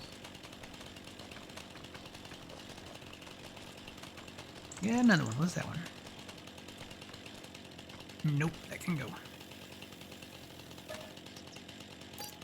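Chainsaw running in the Farming Simulator 25 video game, a low, constant mechanical drone that holds steady in the background while someone talks briefly over it twice.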